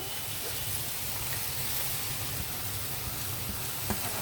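Amaranth leaves go into a pan of cooked tomatoes and onions, giving a steady, even sizzling hiss throughout with no voices over it.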